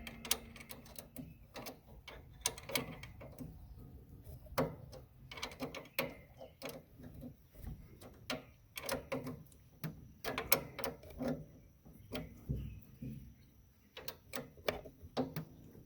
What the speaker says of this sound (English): Push it in, tighten it as much as you can by hand, and try to tighten it with the wrench.